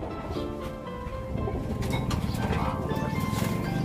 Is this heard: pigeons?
yes